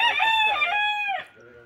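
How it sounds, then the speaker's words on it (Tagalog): A single loud crow from a prize-winning fighting rooster rings out up close, a long drawn-out call that trails off at the end. "Yan po yung sinasabi kong 2 times winner na manok ni Boss Bebet"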